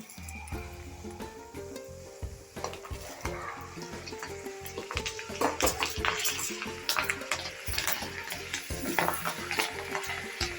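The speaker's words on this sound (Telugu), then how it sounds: "ఆయిల్ వేడెక్కిన తర్వాత మనం ఆరబెట్టుకున్న శనగపప్పు వేసేసుకున్నాం" Dried split chickpeas frying in hot oil on medium heat, a busy crackling sizzle with repeated stirring scrapes that grows livelier over the stretch, no talk.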